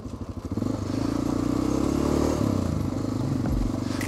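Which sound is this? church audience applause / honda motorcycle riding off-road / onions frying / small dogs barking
honda motorcycle riding off-road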